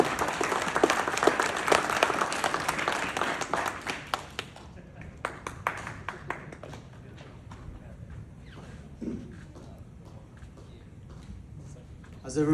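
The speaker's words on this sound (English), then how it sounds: "Give this young man a big round of applause," Audience applause for a young keynote speaker at a youth entrepreneurship expo, loud dense clapping for about four seconds before thinning into scattered claps and fading to quiet room noise.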